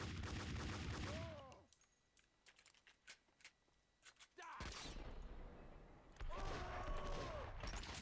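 Gunfire rings out in the Max Payne 2 video game, with quick bursts of shots at the start and end separated by a quieter stretch of scattered sharp hits, over loud game sound.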